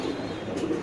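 Silver Bagha pigeons cooing softly in a coop, a brief low throaty coo heard close by over faint background noise.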